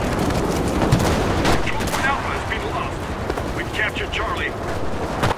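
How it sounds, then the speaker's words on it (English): Dense, continuous gunfire and explosions from a World War II shooter game, Enlisted, fill the whole stretch at steady loudness, with scattered bursts and rattling shots layered over a constant battle roar and faint voices. "I can feel the bullets whizzing past my head."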